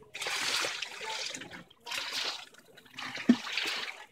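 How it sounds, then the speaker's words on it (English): Water trickles and splashes from a waterfall feature into an outdoor swimming pool, a soft broadband wash coming in three bursts separated by brief lulls, with one small plop near the end and no talk. "I'm gonna show the waterfall thingy."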